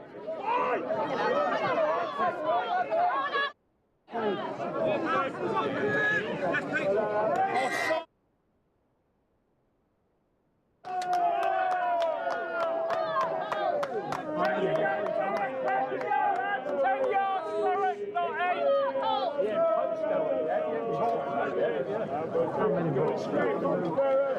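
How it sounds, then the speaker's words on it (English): A raucous post-dinner crowd at a rugby match between Thurrock and Holt fills the air with dense, continuous chatter and babble, broken by a short silent gap midway. "A raucous crowd just having had a dinner and obviously well lubricated"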